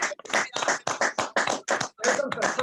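An audience at a live health-product event claps in uneven bursts, each burst of clapping separated by short gaps, moderately close.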